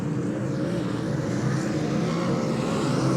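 Super sedan race cars roar around the Dubbo Speedway dirt oval in a sustained, droning engine howl that stays steady and loud throughout, with no commentary over it.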